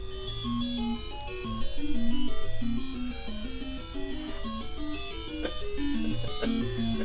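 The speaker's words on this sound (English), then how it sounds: "Like title screen, Crazy Bus title screen." Crazy Bus video game title screen music: a shrill, repetitive synthesized melody with stepping tones, playing loud and steady on its own throughout.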